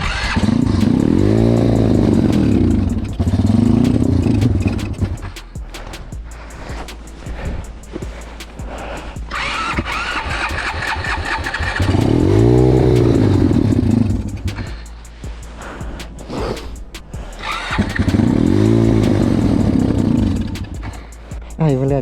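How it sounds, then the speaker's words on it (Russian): A motorcycle engine running close by, rising and falling in three loud revving surges with rougher idling and clatter in between, while someone talks and swears over it. "Боже, помоги мне, блядь, с этим мотоциклом ебучим"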